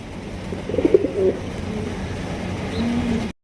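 A pair of jet-black Lakkha pigeons coo in low, throaty bursts, near and clear, followed by a longer sustained coo.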